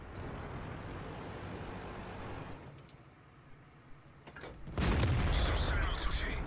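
A tank cannon fires a quick snapshot in a tank video game: a low rumbling engine drone, a lull, then a loud booming blast with a long rolling tail.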